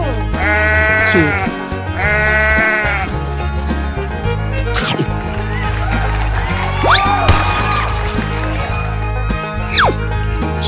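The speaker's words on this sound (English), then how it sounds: "Sheep." Repeated wavering sheep bleats over a constant musical background, two clear calls early then more scattered cries and sound effects later; no talk.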